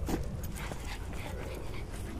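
A dog whimpers softly and continuously at a campsite against a steady, noisy outdoor background with traffic rumble.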